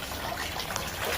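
Rainwater rushes into a flooded residential lane after a rain shower, a steady, dense, continuous wash of flowing water heard up close with no pauses.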